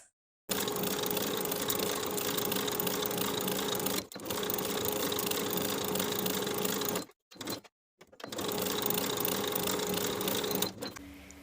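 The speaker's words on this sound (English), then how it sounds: "Sew each of the armholes with a 1/2 inch seam allowance." A sewing machine stitches the armhole seams of a woven romper bodice in loud, steady bursts of rapid whirring, pausing briefly between runs, close by with no talking.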